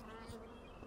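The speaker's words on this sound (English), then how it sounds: "Here's the honey beehives today." Honey bees hum around a beehive, a soft, steady buzzing heard close and quiet over about a second.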